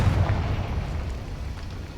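A Confringo spell explosion in Hogwarts Legacy goes off as a deep, rumbling blast that rolls on for about two seconds, loud and steady, with no one talking over it.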